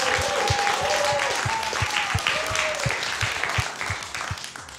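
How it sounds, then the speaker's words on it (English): Studio audience at a TV comedy quiz show breaks into sustained applause, a broad wash of clapping with a steady rhythmic thump underneath and a brief voice over it, fading slightly toward the end. "Let's have a round of applause for TV voiceover legend Pete Smith."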